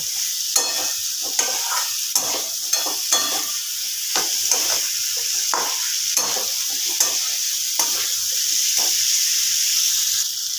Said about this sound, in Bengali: এবার আলু পটলগুলোকে দিয়েও খুব ভালোভাবে আমি একটুখানি কষিয়ে নেবো